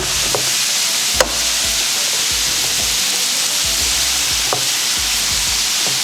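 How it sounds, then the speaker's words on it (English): Beef mince browning in a pan for a British cottage pie: a loud, dense, continuous sizzle close by, with a couple of brief clinks of a utensil and no talk. "just leave this to cook down until the mince is browned thoroughly throughout"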